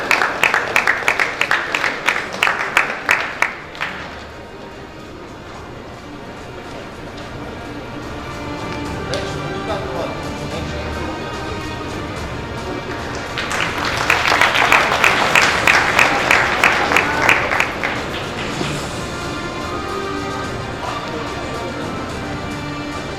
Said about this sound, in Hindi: जोरदार तालियों के साथ स्वागत कीजिएगा मंच पर डॉक्टर सुमेधा श्रीवास्तव जी का